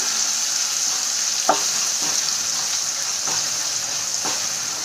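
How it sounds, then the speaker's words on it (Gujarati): Finely chopped onion sautéing in a pan, a steady even sizzle broken every second or so by a spoon scraping through as it is stirred. "તો આ રીતે હલાવીને આપણે એને આછા ગુલાબી રંગની થાય ત્યાં સુધી એને સાંતળી લઈશું"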